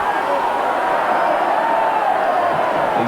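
Crowd at a Halifax versus Australia rugby league match roaring and cheering in a steady, dense wash of voices that holds without break.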